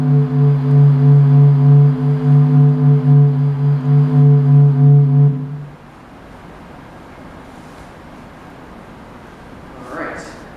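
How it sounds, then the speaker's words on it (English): Sped-up recording of the sun's sound waves, captured by the SOHO spacecraft: a steady, loud stack of humming tones for about five seconds, then breaking into a quieter, hissing rumble with a faint swell near the end. "that's the sound of the sun sped up"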